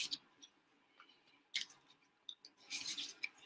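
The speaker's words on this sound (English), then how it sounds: "when you're shuffling cards" An oracle or tarot card deck being shuffled by hand, giving bursts of crisp papery riffling and soft card slaps with short pauses between, close and fairly quiet, alone without talk.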